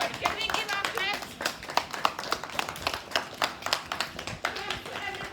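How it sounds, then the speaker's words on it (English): Audience at a school welcome assembly clapping for certificate winners, a steady close patter of many hands that keeps going with a slightly uneven rhythm, while an adult voice talks over it. "Can we give our claps?"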